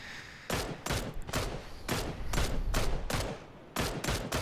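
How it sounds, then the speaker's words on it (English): Rapid bursts of gunfire from a PUBG esports match at the ESL AUNZ championship qualifiers, loud repeated volleys of shots at an uneven rhythm with brief gaps, no voices over them. "Putting in some shots into Cramsey on the other side of the dip."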